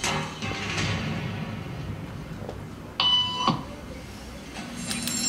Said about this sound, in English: Beep means stand up.